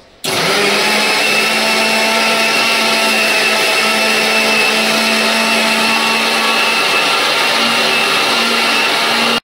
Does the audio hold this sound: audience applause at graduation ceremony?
no